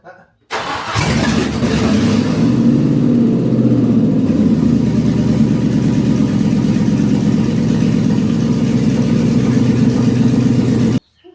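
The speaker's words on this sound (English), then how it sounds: "Oh, that's loud." A Land Rover Discovery 2 with a swapped-in LS engine starts up and then idles steadily and roughly close by, loud, with a throbbing, uneven rumble that runs for several seconds before cutting off.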